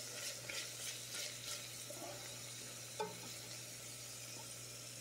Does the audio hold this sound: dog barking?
no